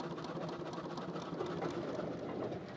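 A steam engine runs with a steady chugging exhaust, a faint, continuous mechanical rumble heard from a moderate distance with no voices.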